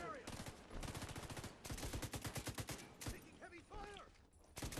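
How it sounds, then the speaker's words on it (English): Heavy machine gun fire in The Division 2 comes in long, loud rattling bursts with brief pauses, and shouted voices are heard between the volleys. "Yeah, you're right, it's a heavy machine gun."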